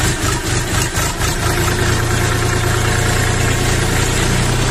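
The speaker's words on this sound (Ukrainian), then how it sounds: "Чуєте, як працює двигун, нормально працює, нічого йому не бракує." The small diesel engine of a Xingtai 24 hp mini tractor idles loudly and steadily, a continuous low chugging rumble with no voices.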